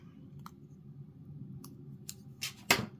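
Scissors cut paper cardstock to round a corner. A few sharp snips come close and fairly quiet over a low steady hum, bunching together near the end.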